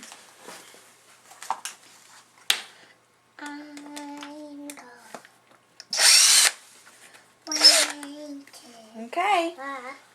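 Short bursts of a power drill driving screws into a lawn chair, whirring in brief spurts of rising pitch amid handling clatter, with a child and an adult talking nearby.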